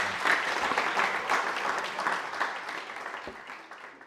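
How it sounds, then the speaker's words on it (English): Audience applause at a university speaker series lecture, a full, continuous wave of clapping from a seated crowd that gradually tapers off near the end. "please give a big round of applause for Daniel."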